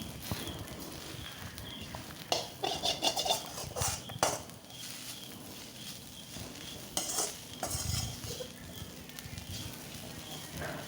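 Fried ginger and shallots are stirred in a pan after the flame is turned off, with irregular spatula scrapes and clatters over a faint residual sizzle, fairly quiet and without talking.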